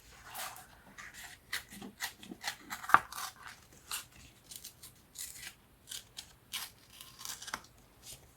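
Scissors snip through paper, cutting out cluster shapes for a craft project: a brisk, close run of many short crisp cuts at an uneven rhythm, with faint paper rustles between them and no talking.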